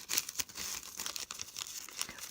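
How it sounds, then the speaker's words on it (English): Tissue paper being crumpled and crinkled by hand while a gift bag is stuffed, a close, busy run of dry rustles and crackles with several sharper crunches over about two seconds. "take some more tissue paper"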